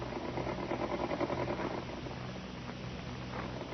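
A sewing machine whirs briefly in a quick stitching rhythm, then stops, leaving a low background hum.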